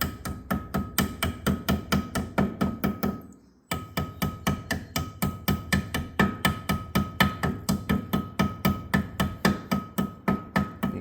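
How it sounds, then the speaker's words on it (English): A hammer strikes metal in a steady, rapid series of sharp taps, seating a bushing into a Polaris Sportsman 500 ATV rear axle, with a brief pause partway through before the tapping resumes. "Couple taps with the hammer"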